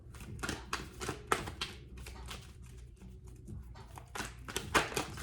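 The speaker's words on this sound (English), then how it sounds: "So I'm gonna shuffle the cards and I'm gonna get going." Tarot cards shuffled by hand close up, a series of quick papery riffles and flicks in uneven bursts, moderately loud with no talking.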